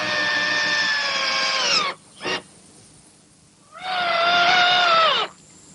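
A power drill driving screws to fit swivel casters onto a wooden trundle bed, two loud close bursts of whining motor with a short blip between them, each winding down at the end.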